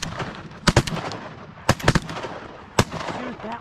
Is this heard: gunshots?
yes